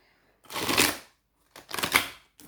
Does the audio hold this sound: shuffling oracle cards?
yes